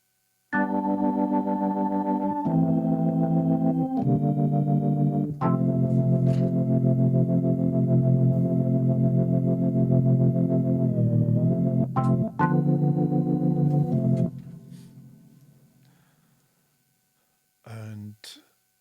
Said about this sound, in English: the Leslie speaker would spin, which is how a lot of the very, very classic Hammond sounds are got.